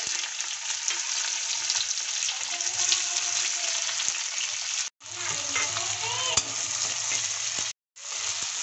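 Chopped onions frying in hot oil with bay leaf, cumin and cinnamon, in oil already used to fry eggs for a village-style egg curry: a dense, continuous close sizzle with faint stirring, briefly cut off twice.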